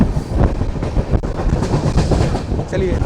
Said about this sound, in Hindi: फिरोजपुर की ओर बढ़ते हुए हमारी ट्रेन